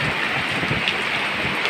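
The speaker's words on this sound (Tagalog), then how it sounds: "Ay salakas ang ulang yan" Heavy rain pours down steadily at an outdoor car show, a dense, even roar of water on surfaces with no pauses.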